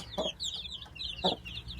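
A broody hen gives a few soft, low clucks close by, with faint chirping from small birds in the background.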